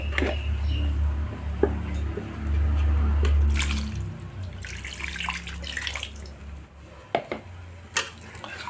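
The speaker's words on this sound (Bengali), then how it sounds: "আর একটু জল দিব" Water poured into a hilsa fish curry with potatoes in a pan, a loud close gush and splash for a few seconds, then quieter sloshing with clinks of a utensil against the pan.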